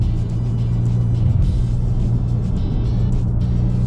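A Ferrari Roma's front-mid V8 rumbles steadily close by, a deep continuous engine note with slight rises in revs.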